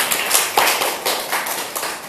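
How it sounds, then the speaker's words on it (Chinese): A small audience at a motivational talk gives a brief, sparse round of hand clapping, a few scattered claps fading out within a couple of seconds. "可以给鼓掌一下吗？"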